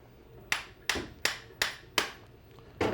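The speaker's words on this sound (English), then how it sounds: "you can do that by just taking a dead blow hammer to it, just tapping it in a few different locations" Six sharp dead blow hammer taps land on a metal circle track shock at a steady, slightly uneven pace, each a dull thud with a quick ringing decay, close and clear.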